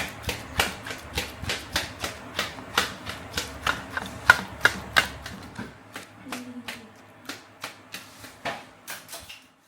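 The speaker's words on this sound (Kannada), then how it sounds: "ಈ ರೀತಿ ಒಂದು ರೌಂಡ್ ಚಾಕು ತಗೊಂಡು ಈಗ ಮಾಡಿಬಿಟ್ರೆ ಚಿಕ್ಕದಾಗಿ ಕಟ್ ಆಗಿಬಿಡತ್ತೆ ಅದು" A round knife chops fire-roasted brinjal into small pieces: a steady run of close, crisp tapping cuts on a board, about two per second, slowing and fading near the end.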